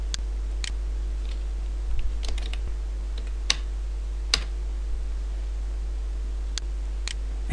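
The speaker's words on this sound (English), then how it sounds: "And I'll type some content here" Keystrokes on a computer keyboard while typing text into a demo web page, sparse and faint clicks scattered over a steady low hum, with no voices.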